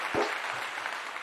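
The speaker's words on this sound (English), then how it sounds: "Let's clap it up for the one time." Studio audience in a talk show setting clapping briefly, a soft continuous patter of applause with a low thump near the start.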